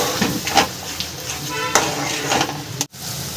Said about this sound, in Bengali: এবার সব মশলা একসাথে ভালো করে তেল ছাড়া পর্যন্ত কষিয়ে নেব।